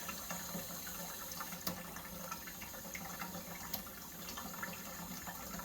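Water is poured into a laundry drain trap at a new upstairs laundry outlet box during a plumbing install, giving a faint, steady gurgling wash with a few small splashes and no voices.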